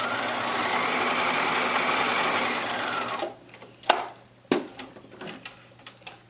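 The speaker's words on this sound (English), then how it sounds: "I'm going to stitch it down on the ends just to hold it in place." A sewing machine runs steadily, stitching down the ends of mask fabric with a continuous whirring hum for about three seconds, then falls silent apart from a few scattered clicks and handling knocks.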